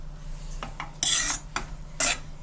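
Vada pav potato filling being smashed and mashed in a pan, with scraping metal-on-pan strokes: a few soft scrapes, then two louder, bright rasping smashes about a second apart, close and alone with a low steady hum behind.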